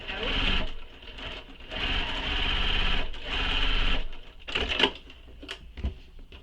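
A sewing machine back-stitches a handbag seam in three steady whirring runs separated by short pauses, followed by a few clicks and light handling noises, close and clear.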